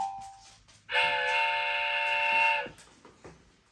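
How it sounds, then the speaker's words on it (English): A chord-like train-whistle tone from a Ring Chime doorbell sounds for about two seconds, steady and bright, then cuts off. "Train whistle."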